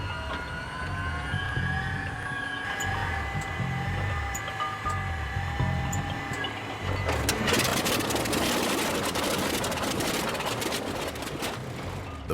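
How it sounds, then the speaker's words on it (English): A World War II-era aircraft engine starting cold drones steadily and roughly for several seconds, then swells into a louder, harsher broadband roar partway through, close and continuous. "As with many World War II-era aircraft, starting the engine cold is a haphazard and messy affair."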